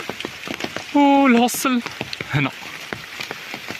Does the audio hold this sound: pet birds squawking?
no